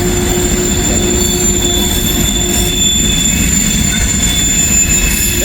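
A Norfolk Southern freight train rolls past close by on the tracks, a loud, steady rumble of wheels on rail with high metallic squeals and whining tones sustained throughout, no voices.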